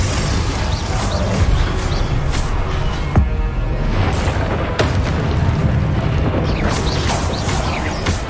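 Confringo spell blasts in Hogwarts Legacy land amid loud, continuous combat noise, with a few sharper impacts rising out of the rumbling din.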